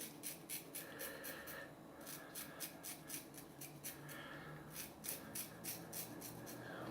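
Parker 96R double-edge safety razor scraping through stubble lathered with citrus shaving cream, close and quiet, a run of short rhythmic rasping strokes in clusters with brief pauses between passes.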